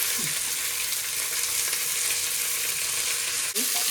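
Onions frying in a pan for Sindhi-style paya soup, a dense continuous sizzle with faint stirring, close and steady throughout.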